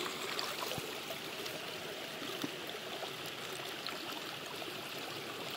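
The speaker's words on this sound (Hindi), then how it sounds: "ये हमने अभी पानी छोड़ दिया है।" Water rushing steadily along a canal feeding a water mill, a continuous close broadband gush with small splashy ripples and no talking.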